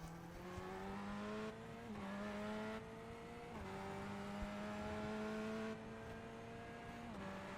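A Chevrolet GTE race car in a racing game drones at high revs, its engine note climbing steadily and then abruptly cutting out near the redline several times in a row, loud and close.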